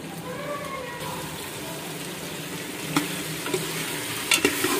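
Tomatoes fry in a pan with meat and taro root, giving a steady, close sizzle with stirring clatter and a few sharp utensil knocks near the end.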